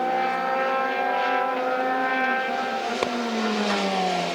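A Euroformula Open single-seater race car at Mugello circuit in Italy, running in qualifying on a wet track, with a loud, steady engine note whose pitch slides gradually as the car passes, a brief sharp blip near the end.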